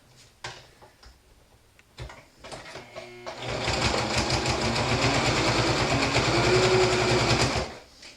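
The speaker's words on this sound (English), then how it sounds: "So I'm just going to go just with a regular stitch." Sewing machine stitching a cotton mask with a regular stitch: a few soft clicks and handling taps, then a steady, fast mechanical whirr of needle strokes running for about four seconds before stopping.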